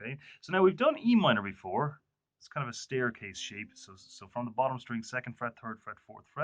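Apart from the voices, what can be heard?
No everyday noises stand out.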